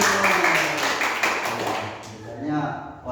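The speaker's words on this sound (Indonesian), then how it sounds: "Tepuk tangan dulu." A group of people in a classroom setting clap their hands together in dense, continuous applause that fades slightly toward the end, with voices mixed in.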